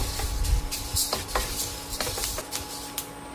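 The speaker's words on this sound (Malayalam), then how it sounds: "ഇപ്പം നന്നായിട്ട് മൂത്ത് ഇത് പൊട്ടാൻ തുടങ്ങിയിട്ടുണ്ട്." Horse gram dry-roasting in a pan on low to medium flame, with scattered sharp crackles and pops mixed with the scrape and rattle of stirring, close and fairly loud with no voices.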